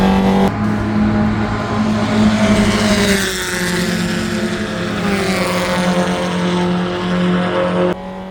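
A race car heads out onto a green, greasy track with little grip after bad weather. Its engine drones loud and steady throughout, with the pitch climbing and falling midway and easing off near the end.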